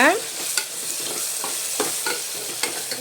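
Chana masala being stirred into spices frying in a pan, a continuous bright sizzle broken by repeated scraping strokes of the spoon, close and alone with no voices.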